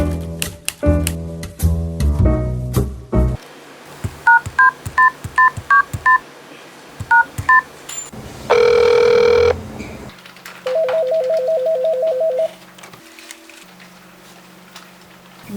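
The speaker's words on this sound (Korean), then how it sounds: "내 전화 한번 해볼게." A telephone is dialed with a run of beeping keypad tones, then a ringback tone sounds in repeated bursts while calling an education franchise office, each ring clear and close with quiet gaps between.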